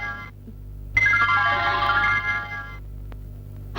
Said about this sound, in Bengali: ম্যাডাম আপনার ফোন